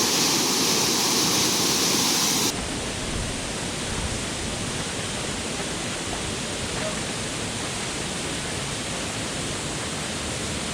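A river runs over shallow rocks at Fraser Hill with a constant, dense rush of flowing water. A sharper, brighter noise in the first couple of seconds gives way to a steady, full wash with no speech.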